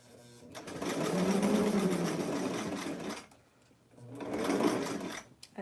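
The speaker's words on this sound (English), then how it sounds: "now, let's sew our binding on here" A sewing machine stitching binding onto a blouse runs in two bursts, a longer steady whir of about two and a half seconds and then a shorter run, close and clear, with a short pause between.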